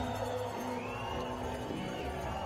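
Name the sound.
Swiss crowd applauding an ice climber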